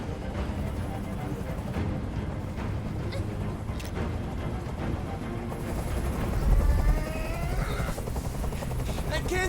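A helicopter's rotor in the video game Detroit: Become Human thumps and whirs at moderate volume, with a voice speaking over it and a rising swell of noise near the end.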